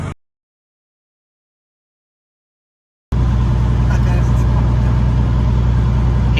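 Truck with a Cat 3406B diesel engine on a test drive, a loud, steady low rumble that cuts in abruptly after silence and holds at close range, with a voice briefly at the start.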